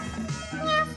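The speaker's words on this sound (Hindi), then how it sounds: "ये तो उसी बिल्ली की आवाज है।" A cat meows amid background voices and room noise, the call fairly soft and drawn out over about a second.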